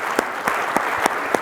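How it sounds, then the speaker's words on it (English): Luncheon audience at a water summit applauds, a short, loud, dense burst of clapping with a few sharper individual claps standing out at regular moments. "Please, another round of applause for Dr. Castro and all of our luncheon speakers."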